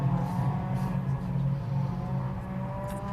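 Ford Fiesta junior championship race cars lapping a circuit, a moderate, steady engine drone with whining tones that sounds somewhat distant, with no clear pass-by peak.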